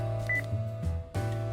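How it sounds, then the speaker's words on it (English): Phone in the Spirit Hunter: NG video game giving electronic ringing tones, steady sustained pitched beeps with a brief gap before resuming, loud and clear with no speech. "Just then her phone rings."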